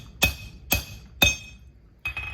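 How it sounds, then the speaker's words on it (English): Three evenly spaced, bright metallic strikes of a hammer on metal being stretched over the horn of an anvil, each ringing briefly, followed by two quicker lighter taps; close and alone with no talk. "put it onto the horn of the anvil, and then all we're gonna do is start stretching this metal out."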